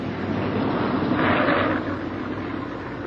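Steady loud engine drone of a returning B-17 Flying Fortress bomber, a dense continuous roar that swells slightly midway and then holds, with no voices.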